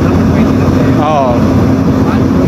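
A ship's engine drones loudly and continuously during maneuvering, a low steady rumble mixed with wind buffeting at the microphone, with voices on deck partly audible over it.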